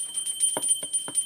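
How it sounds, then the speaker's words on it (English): A small sleigh bell jingles softly in a few quick, evenly spaced shakes, thin and faint, with a steady high ringing tone underneath. "Can you hear Santa's bell?"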